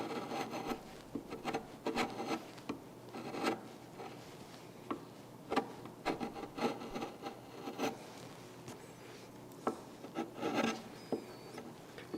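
A razor-sharp chisel pares wood for the final cuts on a furniture top, giving repeated scraping, rasping strokes in an irregular rhythm, close and fairly quiet, with no speech.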